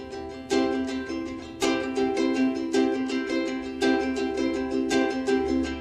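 A ukulele strummed in a lilting jig rhythm, bright chords struck in repeating down-up groups with clear accents, played alone and without any voices.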